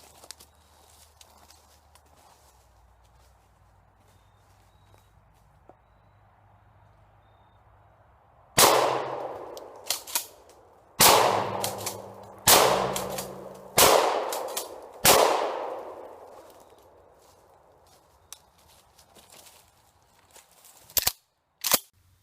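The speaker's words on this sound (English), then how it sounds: "Only 5 shots, but my shoulder can feel it a little bit" Remington 870 Police Magnum pump shotgun firing 7.5 shot outdoors at a particle board target: five loud, sharp blasts spaced a second or two apart, each with a ringing tail, after a quiet lead-in and before two short clicks.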